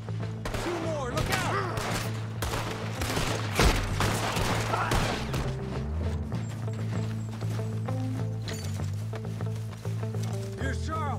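Gunfire in a video game, rapid repeated gunshots crackling in bursts alongside hoofbeat-like thumps, mixed with game music and people talking over it.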